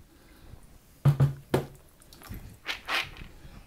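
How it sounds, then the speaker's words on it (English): Soybeans being rinsed in clean water, heard as a few short wet splashes and squishy sloshes, sparse and close, with quiet gaps between them. "And I'm going to rinse my beans."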